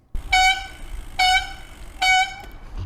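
Three loud, shrill squeals from noisy bicycle disc brakes, each about a third of a second, evenly spaced and close up, with quiet hiss between.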